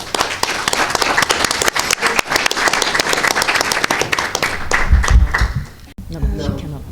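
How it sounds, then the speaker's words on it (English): An audience applauds at the close of a morning talk on feminism, gender, militancy and radicalization: dense, steady clapping from a room full of people, with voices mixed in, tapering off near the end. "I think we need a final round of applause."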